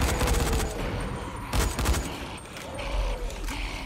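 Rapid gunfire in Dying Light fires in dense, ragged bursts that crackle close and loud, with brief pauses between volleys and no speech.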